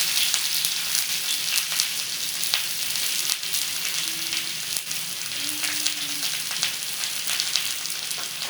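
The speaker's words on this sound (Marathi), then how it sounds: "आता कांदा लाल होऊस तर आपण त्याला चांगलं भाजून घेऊ." Chopped onion fries in hot oil with mustard seeds and curry leaves, giving a close, steady, dense sizzle and crackle throughout with no talking.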